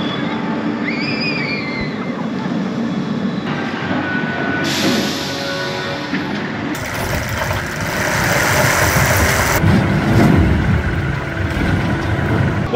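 Dragon's Fury, a Maurer spinning roller coaster at Chessington World of Adventures: a loud, continuous rattling rumble of the car on the track, shifting in tone as the ride moves and swelling louder toward the end, with no talk.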